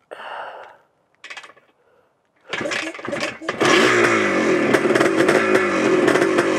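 A stock 1974 Yamaha DT360 two-stroke motorcycle started on choke: a few short sputtering kicks and coughs, then it catches and settles into a loud, steady, close-up idle.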